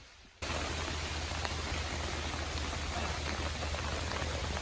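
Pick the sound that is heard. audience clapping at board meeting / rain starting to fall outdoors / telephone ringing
rain starting to fall outdoors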